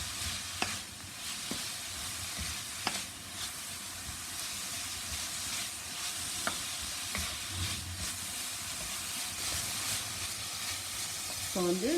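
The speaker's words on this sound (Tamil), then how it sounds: "இப்போ வந்து இந்த காய்கறி வந்து வதங்கிச்சு" Mixed vegetables sauté in a pan for vegetable fried rice, with a close, steady sizzle and hiss and the periodic clink and scrape of a stirring spoon, with no talking.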